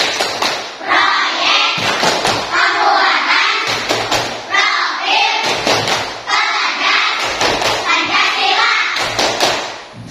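Schoolchildren in a fourth-grade classroom perform the Tepuk P5 clapping routine together, loud rhythmic claps and hand thumps in repeated patterned bursts separated by brief pauses, with children's voices chanting along.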